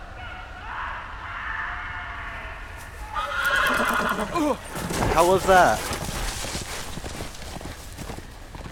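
A horse in the Telltale Game of Thrones video game gives a loud, wavering whinny with hoof clip-clops under steady background ambience, while someone briefly talks over it.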